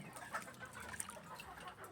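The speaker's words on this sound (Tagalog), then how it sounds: "Pagkaubos ng patuka ng mga manok ay pinainom ko na silang lahat." Farm chickens at a gamefarm clucking after their feed runs out, a scattered mix of soft clucks and calls at moderate distance with one brief sharper note, over a steady outdoor background.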